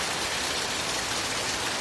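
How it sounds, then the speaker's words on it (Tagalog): Heavy rain pours down during Typhoon Carina in Tarlac, a dense, steady roar of water drumming on surfaces close by, unbroken and loud throughout. "Grabe mga kapatid, lakas ng ulan dito."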